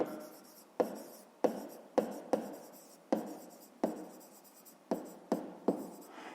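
A pen writes on paper in a quiet room, making about a dozen distinct scratchy strokes in an uneven rhythm. It is close and faint, with no voices.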